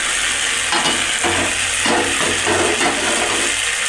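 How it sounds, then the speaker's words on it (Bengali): Boiling water poured into a pan of fish curry made with elephant foot yam, a steady rushing splash and bubbling sizzle close by, continuous for a few seconds with no talking. "ফোটানো জল দিয়ে দিলাম।"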